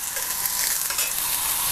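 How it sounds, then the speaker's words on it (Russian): Onion and julienned carrot sizzle over high heat in a pan, a loud, continuous crackling fry with light stirring scrapes and no talking. "На сильном огне это быстренько все обжарим."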